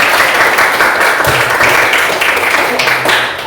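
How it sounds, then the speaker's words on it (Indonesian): A classroom of students claps for themselves during a lesson: loud, dense applause close to the microphone, steady throughout with a few sharper claps standing out. "mari kita berikan tepuk tangan untuk kita semua dulu."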